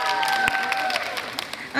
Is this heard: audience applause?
yes